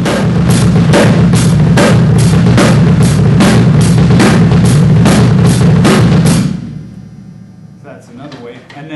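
Drum exercise of accents and rolls on half-note triplets: loud, close, rapid buzzing rolls punctuated by evenly spaced accented strokes, stopping abruptly near the end with a few quieter sounds after.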